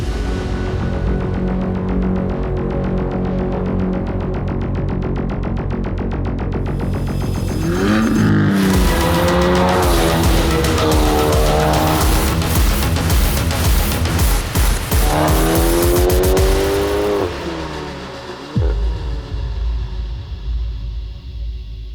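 A Stage 3 tuned Volkswagen Tiguan idles with a deep rumble, then roars as it accelerates hard through several gear shifts, heard up close from inside.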